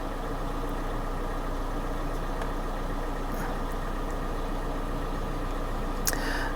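A Kia car engine idles steadily at about 900 RPM, a constant low hum with faint rattling vibration and no voices.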